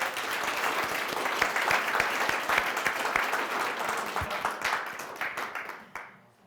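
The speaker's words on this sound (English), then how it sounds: "Can we give her a round of applause" An audience at a talk about Rosie the Riveter and the World War II home front bursts into steady applause. Many hands clap densely for about six seconds, then the clapping thins out and fades away.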